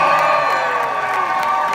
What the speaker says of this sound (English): can we have a round of applause for Nicola Meehan